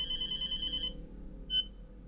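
A telephone rings in two short bursts of a bright electronic trill, the first lasting nearly a second and the second a brief chirp, against a quiet low hum.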